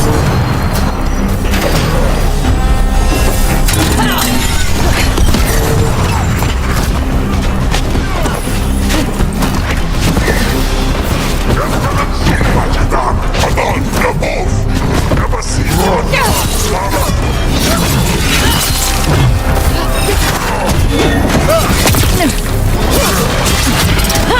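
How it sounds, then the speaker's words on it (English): Heavy weapon fire and impacts from Gatlock cannons ring out in the video game Dragon Age: The Veilguard, dense crashes and booms layered over battle noise with characters talking throughout. "Watch yourself. They have Gatlock cannons."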